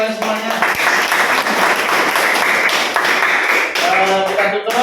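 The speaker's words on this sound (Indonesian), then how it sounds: "Oke, tepuk tangan untuk kalian semuanya." A lecture audience in an Indonesian university class on Islamic studies applauds with steady, dense clapping lasting several seconds, loud and close, while the lecturer briefly speaks.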